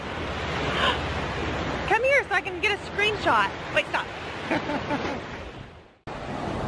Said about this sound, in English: The ocean's loud, but it's so pretty